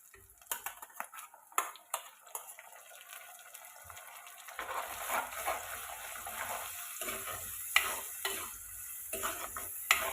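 Tomato puree is added to green chilies in a pan for a simple fish curry. It sizzles softly while a utensil stirs and scrapes in repeated bursts, and the frying grows louder and steadier midway.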